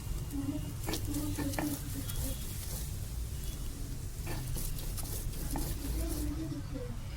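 Bottle gourd leaves ground into a paste, with repeated rough scraping and rubbing strokes in an uneven rhythm, close by, over a continuous low background.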